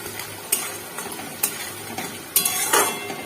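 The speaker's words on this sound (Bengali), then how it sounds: "এটাকে কষিয়ে নিতে হবে" Meat masala spices sautéing in a pan with a soft sizzle, broken by several sharp scraping strokes of a spoon against the pan at irregular intervals.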